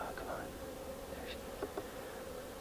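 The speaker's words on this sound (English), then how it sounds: "So that is the flower pot bees." Flower pot bees hum steadily around hive frames, a close, even insect drone with a few brief louder passes; no one speaks.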